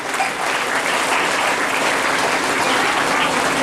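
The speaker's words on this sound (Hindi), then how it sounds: "जोरदार ताली से धन्यवाद करो।" Loud, continuous applause from a church congregation at a prayer gathering, dense and sustained throughout with no break, a full room of clapping hands close by.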